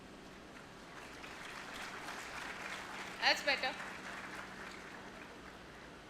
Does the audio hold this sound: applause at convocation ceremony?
yes